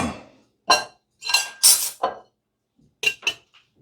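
Wine glasses clink sharply several times in a kitchen while pasta is being finished, giving bright, ringing taps in quick clusters and pauses, close and clear with no talking.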